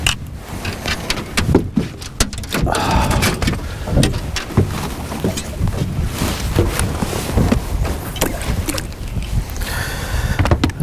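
Wind buffets the microphone in loud, continuous gusts while someone fishes from a boat with a light jig, a low rumbling roar that swells and fades without any talking.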